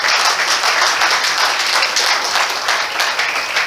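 A church congregation applauds, giving loud, close, continuous clapping that fills the whole short burst with a dense, even texture.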